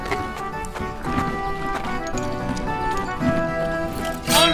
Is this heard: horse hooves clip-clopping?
yes